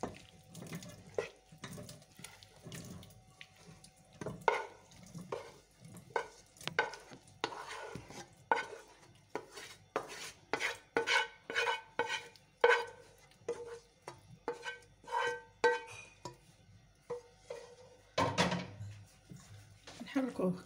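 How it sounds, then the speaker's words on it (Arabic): Vegetables for healthy vegetable karantita are stirred in a pan with repeated scraping and clattering strokes in an irregular rhythm, close and moderately loud, with running water and a speaking voice in the background. "نحركوه هكايا مزيان"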